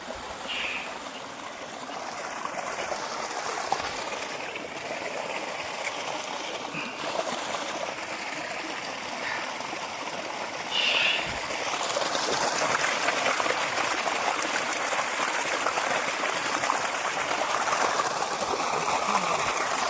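Water rushes steadily at a hidden waterfall near Mazidpur village by Ramoji Film City, Hyderabad: a faint, continuous hiss of flowing water with small splashes, swelling slightly louder partway through.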